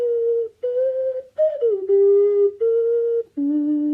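Ocarina, a small clay vessel flute, plays a sequence of pure sustained notes with short gaps between them, clear and close with no voices.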